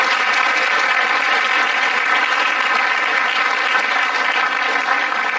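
Sustained audience applause at a marketing panel event at IIM Amritsar, steady and loud clapping from a large crowd throughout, with no talking over it.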